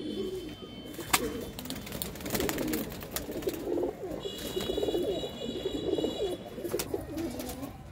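Many pigeons at a bird sale in Ludhiana coo together in a low, continuous warbling chorus, with a few sharp knocks and faint high squeaks over it.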